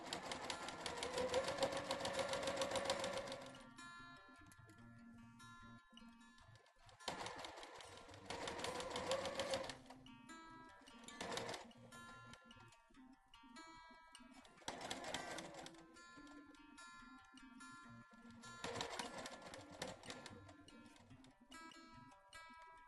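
A sewing machine stitches a quarter-inch seam in several separate runs of rapid, buzzing needle strokes, with quiet gaps and light handling clicks between bursts, close and fairly soft.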